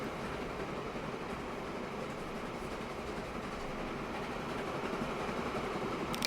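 Logging train in Transport Fever 2 rolls along steadily, a continuous rumble with rail clatter that holds even throughout and swells slightly near the end, with no voices.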